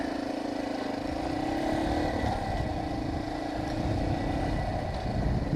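Motorcycle engine droning steadily at moderate distance while riding past a traffic jam on a single road, with a slight rise in revs partway through and no talk.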